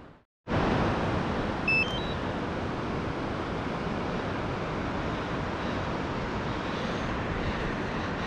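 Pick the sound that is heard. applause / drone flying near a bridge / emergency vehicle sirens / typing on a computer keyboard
drone flying near a bridge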